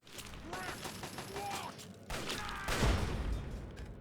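Bursts of automated turret gunfire in the game Fallout 3, rapid clattering volleys at moderate distance, with a lull midway before heavier shots resume and continue.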